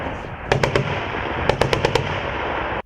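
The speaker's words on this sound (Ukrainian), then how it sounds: "Вибухи, стрілянина, артилерійська канонада, умови максимально наближені до реального бою." Gunfire and explosions crack out at a military training range near Zhytomyr, with two quick clusters of sharp rapid shots over a continuous rumbling background.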